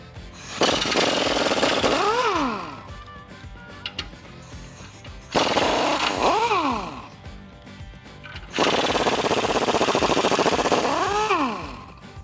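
Three long bursts of a pneumatic impact wrench with a 21mm socket spinning U-bolt nuts off the axle of a Ford F150 during a suspension lift, each burst winding down with a falling whine and separated by short quiet gaps.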